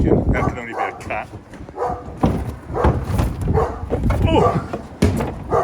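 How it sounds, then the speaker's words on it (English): A dog barking repeatedly at a cat near a house during re-roofing work, a run of sharp, loud barks and yips close by, mixed with people talking over it. "Oh, dog's barking."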